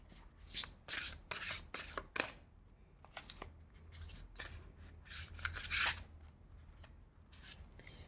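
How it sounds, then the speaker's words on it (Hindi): A deck of tarot cards is shuffled by hand, close up, in several bursts of riffling and sliding with short pauses between, crisp papery flutters and no voices. "तो एक कार्ड मैं इसमें से भी लूँगी ताकि ये पता चले कि रीडिंग किस तरफ जा रही है"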